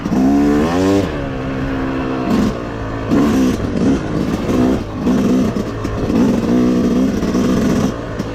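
A Yamaha YZ250X dirt bike on a trail, its engine blipping through a run of short throttle revs that rise and fall, loud and close with brief lulls between bursts.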